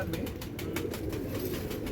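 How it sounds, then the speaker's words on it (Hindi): A loft of Rampuri pigeons on a big farm in Latur, Maharashtra keeps up a dense, continuous cooing, with soft rolling calls layered over one another at close range and no talking. "ये ओरिजिनल रामपुरी कबूतर है भाई।"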